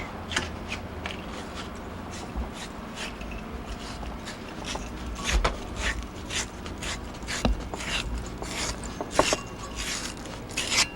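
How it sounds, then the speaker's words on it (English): A wire brush scours the holes of cast iron valve guides in a cylinder head, making a steady close scratching rasp dotted with rapid clicks. "And we take the wire brush."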